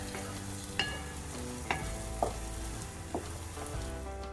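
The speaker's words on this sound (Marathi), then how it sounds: "वाटण्यातल्या मसाल्यांना तेल सुटेपर्यंत आपल्याला हे छानपैकी परतून घ्यायचं आहे" An onion and spice paste for Kolhapuri chicken sautéing in oil: a steady, moderate sizzle with a few sharp spoon taps against the pan, over a faint tonal background hum and no talking.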